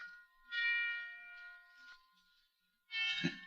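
Christmas bells ring as a sound effect in an old radio crime drama, with two or three clear metallic chimes that decay between strikes, moderately loud and without voices.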